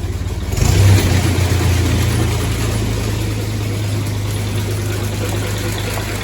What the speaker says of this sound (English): Let's just pick up the revs just a touch.